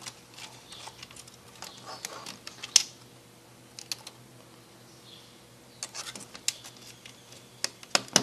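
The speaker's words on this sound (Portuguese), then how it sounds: "Teclado de lado, assim, que tem que colocar." Scattered plastic clicks and taps sound up close as a keyboard is fitted and pressed into place on a ThinkPad T400 laptop, coming in irregular bursts with quiet gaps between.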